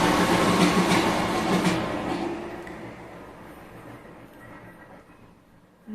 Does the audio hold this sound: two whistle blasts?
no